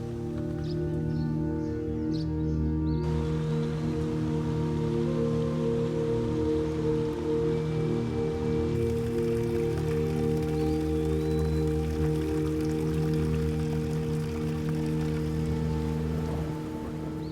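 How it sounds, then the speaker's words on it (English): Steady summer rain falls through a Kyoto bonsai garden, a dense continuous patter on leaves and surfaces with a low hum underneath and faint birds early on. "The rain is not simply weather, it's renewal."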